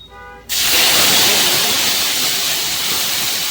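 Boiled moong dal with radish is poured into hot oil seasoned with turmeric. After a brief quiet voice, a sudden loud, broadband hiss erupts and holds steady, easing slightly toward the end.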